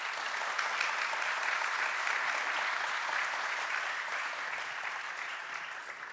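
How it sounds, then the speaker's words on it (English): A conference audience applauds the panelists in a steady, dense round of clapping that holds at a fairly even loudness for the whole stretch, with no talking over it. "Let's give our panelists a round of applause."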